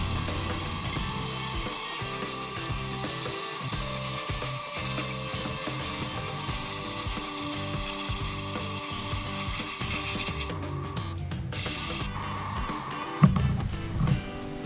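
An airbrush spraying primer onto a miniature figure gives a steady, loud hiss with a faint mechanical whir beneath. It runs almost without a break, then drops away and cuts back in briefly near the end.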